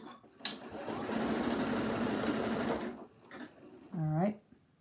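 A sewing machine stitching a rope basket runs in a fast, steady whirring burst for about two seconds, close up, followed by brief short whirs and a voice speaking.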